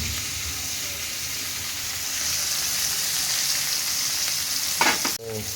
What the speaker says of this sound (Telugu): ఇదండి మంచిగా ఇట్లా క్రిస్పీగా ఈ కలర్ వచ్చేంత వరకు వేయించుకోవాలి